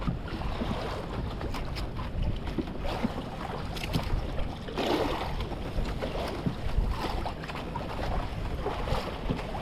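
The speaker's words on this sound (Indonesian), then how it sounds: "Anginnya sudah mulai tambah parah, gelombang sudah mulai agak choppy mania." Strong wind blows hard across a fishing boat at sea off Bali in choppy water, a continuous roaring buffet of wind noise with surging gusts and the rush of waves.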